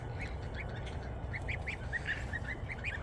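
Two-week-old geese kept outdoors in a tractor pen give a steady run of short, soft honking calls at moderate distance, repeating irregularly over a constant low background hum.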